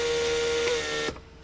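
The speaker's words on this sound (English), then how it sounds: "That's vacuum to actually pull handle back in." On a Mercedes W140, the door lock pump runs a steady tonal hum while pulling vacuum to draw the trunk handle back in, ending with a small clunk about a second in and then near quiet.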